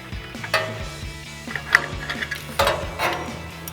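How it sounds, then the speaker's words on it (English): A hand ratchet with an O2 sensor socket snugs down a part while fitting stainless steel catted down-pipes on an EcoBoost F-150, giving a few close, uneven clicking bursts of the pawl with small metallic knocks in between. "so I'm gonna use my ratchet and an O2 sensor socket"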